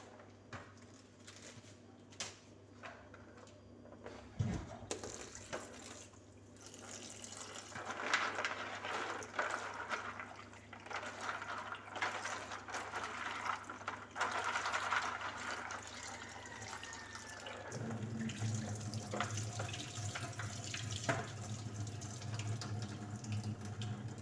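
Tap water runs steadily into a sink while peanuts are washed for homemade Jamaican pumpkin peanut juice, a continuous splashing flow that thickens and grows fuller partway through, with no talking.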